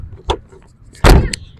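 Back door of a 1985 Suzuki FX hatchback being handled, a soft knock followed by a louder close thump with a short rattle, near and alone.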